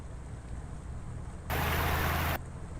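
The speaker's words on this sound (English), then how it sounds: "Some noisy water." Rushing water in Euro Truck Simulator 2 on an Iceland road, a broad hiss that swells in abruptly for under a second over a low engine drone, then drops away again.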